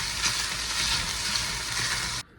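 Onion and sausage sizzle in a hot pan for zuppa toscana, a dense, steady frying hiss that runs unbroken before cutting off abruptly at the end.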